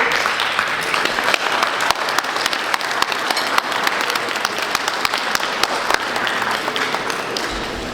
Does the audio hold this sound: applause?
yes